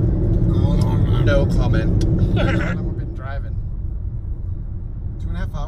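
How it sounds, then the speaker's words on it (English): Steady low road rumble inside a moving car on a long highway drive, loud and continuous, with people talking over it. "We're on the road. We have an 8-hour drive now."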